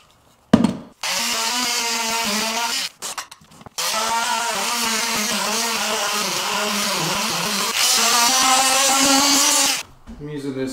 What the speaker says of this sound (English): Use your saw. That's not a very good blade.